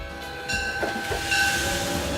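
A metro train runs on its rails with a steady, close rumble and a sustained metallic whine over it. There is no talk.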